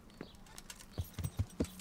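A horse's hooves clip-clop on the ground in the medieval video game Kingdom Come: Deliverance, a few soft, uneven thuds close by over quiet ambience.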